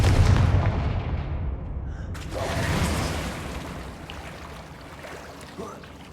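A Confringo fire spell explosion from Hogwarts Legacy bursts loudly with a broad rumbling roar that fades slowly over several seconds.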